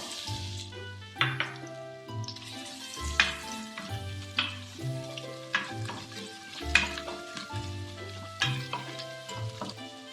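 Cardamom, cloves, cinnamon and onion sizzling in hot oil in a pressure cooker for mutton semiya biryani, a close steady fry broken by repeated stirring scrapes and clinks, no talking.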